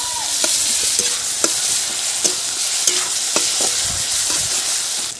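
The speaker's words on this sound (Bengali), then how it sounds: "দিলাম কেটে রাখা পেঁয়াজ" Chopped onion dropped into hot oil with dried chilli, bay leaf and whole cumin in a Bengali-style pan, a loud steady sizzle with repeated scraping stir strokes, no talk.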